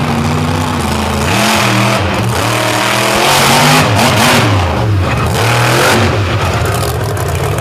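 A Chevrolet C10-bodied pulling truck on a KCM chassis, Frontier Truck Parts Sinistar, at a truck pull event, its engine revving loud and close with rising and falling pitch sweeps, wavering throughout.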